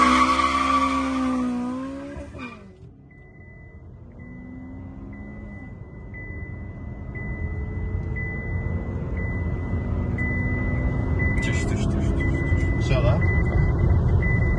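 VAZ 2107 with a 1.8 naturally aspirated engine accelerating hard: a loud engine roar climbs through the revs, drops at a gear change, then builds again, with people talking over it early on.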